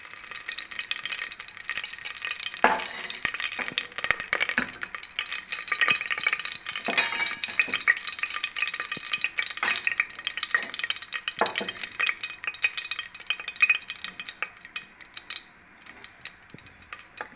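Oil heating in a dry-heated frying pan, a continuous bright crackling sizzle with occasional louder pops and a few utensil clicks, close and unbroken, with no voices.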